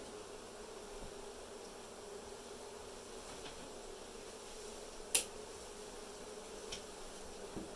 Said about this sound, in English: They sure do sound awful buzzy all of a sudden